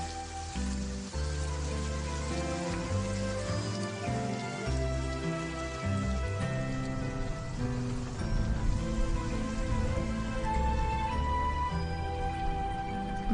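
Steady rain falling in a Korean drama scene, a continuous wash that runs beneath loud background music for the whole stretch, with no speech.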